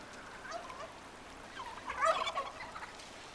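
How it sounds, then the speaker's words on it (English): Turkeys gobbling in a faint, noisy outdoor setting, a burst of warbling gobbles rising in the middle, somewhat distant. "Turkeys."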